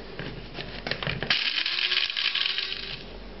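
Whole mixed peppercorns and dried chervil being ground in a grinder, a steady close rasping, clicking mechanical grind that picks up and intensifies about halfway through, with no talking.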